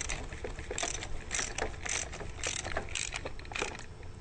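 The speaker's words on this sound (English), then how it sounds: "tighten down with the socket" A socket wrench ratchets as it tightens a nut while a D20 doser is assembled, giving a close, steady run of rapid clicking bursts that repeat about every half second with no talk.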